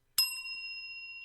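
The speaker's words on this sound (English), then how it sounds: "No, it's a little bell that I have right here, and it goes on legitimate antique bell." A small antique desk bell is struck once, giving a sharp, bright ding that rings on with a clear sustained tone and slowly fades, close and alone in a quiet room.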